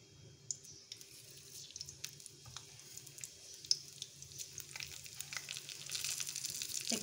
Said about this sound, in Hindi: एक चमचा पावांगे जी जीरे का।